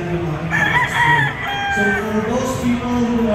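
A gamefowl rooster, an LDT Boston Secret White, crows in several drawn-out, wavering calls amid other fowl clucking and crowing at the World Gamefowl Expo. The sound is close and loud against a busy hall.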